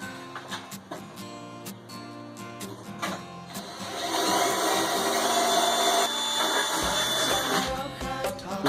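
An electric drill bores into an aluminum case for a DIY Class AB amplifier, first with short bursts of rattling and clicks, then a sustained whining grind for a few seconds before easing off.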